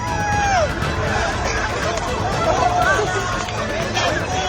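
A large crowd of hungry people jostles around a pot of biryani, a dense, agitated hubbub of many overlapping voices with occasional shouts, loud and continuous throughout.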